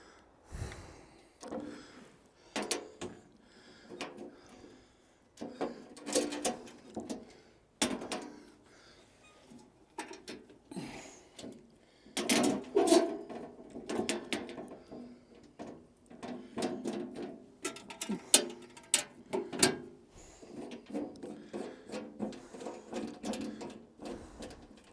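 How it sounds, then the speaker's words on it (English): Safety covers on a sawmill are closed and latched: a run of irregular metallic clanks, clicks and latch snaps, some sharp and loud, scattered through quiet gaps with no talking. "So we'll close her back up. We'll latch these covers."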